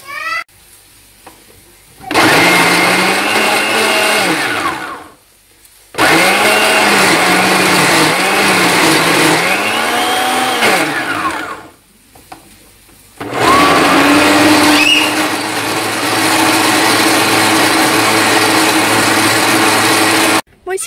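A kitchen blender pureeing boiled carrots, running loudly in three long bursts with pauses between, its motor pitch wavering as the load shifts.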